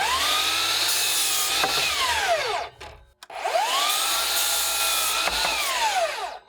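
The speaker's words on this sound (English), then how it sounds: "First thing I need to do is cut this to 30 inches long" A wooden table leg piece for a patio table is sawn to length with a power saw, two loud sustained cutting passes separated by a brief pause as the blade comes off the wood.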